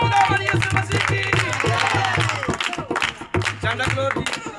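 A church congregation in Biala town, Lahore, Pakistan, claps along in a steady rhythm beneath loud voices, the clapping continuing through most of the moment with brief dips.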